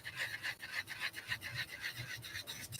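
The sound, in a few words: sanding band filing a nail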